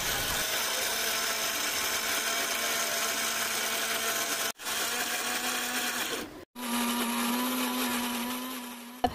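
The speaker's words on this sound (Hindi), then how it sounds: "मिक्सी जार में डाल के स्मूथ पेस्ट बना लेंगे" A kitchen mixer grinder blending roasted onion, green chilies, spices and a little water into a smooth paste for sambar, running in three loud close bursts of steady whirring separated by two short stops.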